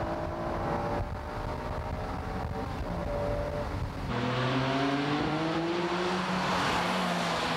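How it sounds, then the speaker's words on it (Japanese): A Honda NSX and a Porsche race around a track in the rain, 1995, their engine notes rising and falling in continuous harmonic sweeps, loud and close, with gear-change dips and a second car joining midway. "さあ、土屋 NSX、ポルシェをぴったりとマーク。 最終コーナーをイン側に立ち上がり"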